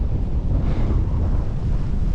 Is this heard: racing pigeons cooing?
no